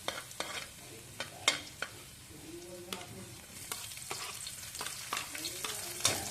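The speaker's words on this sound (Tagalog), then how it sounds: "lutuin natin yung ating ricado. Yung garlic." Garlic and aromatics frying in a pan, a soft continuous sizzle broken by repeated sharp scrapes and clicks of a spatula stirring, fairly close and moderately quiet.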